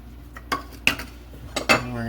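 A metal spoon clinks and scrapes against a pot as powdered pectin is stirred into homemade carrot cake jam, with several sharp knocks spaced through a brief, steady stir. No talking is heard.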